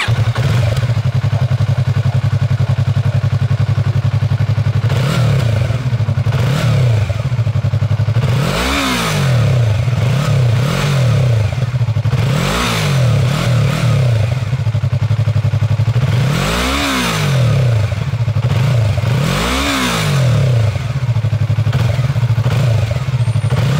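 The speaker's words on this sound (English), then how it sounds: "hindi dapat mawala yung exhaust sound check" Yamaha MT-03 motorcycle idling steadily with a low exhaust drone, then revved in several sharp throttle blips that rise and fall, close and loud with no talk.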